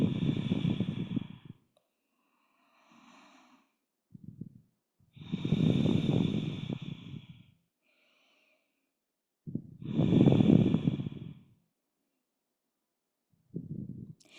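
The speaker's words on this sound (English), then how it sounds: "Imagine breathing into the sides of your torso from your outer armpits to your outer hips. 3 more deep breaths here." Slow, deep breaths during a restorative yoga flow, three long audible inhale-exhale cycles separated by quiet pauses, close and alone with no talking.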